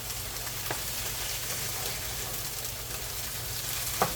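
Lumberjack hash fries quietly in a pan, giving a soft, steady sizzle with a couple of faint stirring scrapes; no talking.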